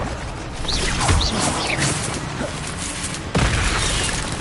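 A Revelio spell cast in the Hogwarts Legacy video game, heard as booming magical bursts with whooshing, shimmering sweeps over a dense, loud game soundscape, with a second strong burst near the end.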